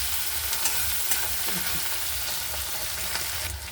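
Peanuts fry with spices, chopped green chilli and tomato in a hot pan, sending up a steady loud sizzle that runs unbroken throughout, with faint stirring scrapes over it.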